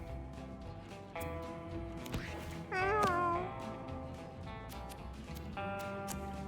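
A person imitates cat meows while playing Mewgenics: several drawn-out, wavering meow-like cries, with one louder rising-and-falling call near the middle, over a steady game music and ambient background.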